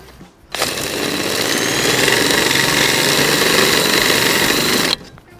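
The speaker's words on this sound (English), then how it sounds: "They can supply a chamfering tool for the drill." A drill fitted with a chamfering tool bevels the end of a drainage pipe, a loud continuous whirring grind that starts abruptly, holds steady for about four seconds, then cuts off.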